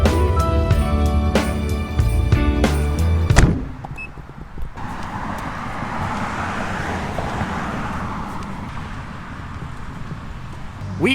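A car pulls away and drives on, first with a brief rhythmic mechanical whir and clicks, then a steady, moderately loud road and engine rumble with no talk.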